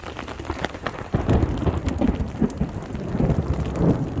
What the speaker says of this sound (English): Sit back and enjoy the rain and all of our earthworks filling up with water.